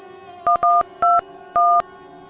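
A telephone keypad dials with four short electronic touch-tone beeps in quick, uneven succession, close and clear over quiet background.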